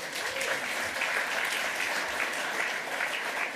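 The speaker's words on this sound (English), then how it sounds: "they deserve a round of applause" Steady, dense applause from a conference audience at a hacker congress lightning-talk session, filling the whole stretch at an even level with no voices over it.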